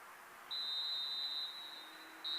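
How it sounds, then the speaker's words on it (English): A referee's whistle at a varsity girls' soccer match gives a long steady high blast, then a second short blast near the end, heard faintly over quiet field ambience. "the referee will probably blow his whistle after this kick is taken"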